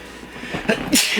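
A single short, sharp sneeze from a person indoors, close and brief.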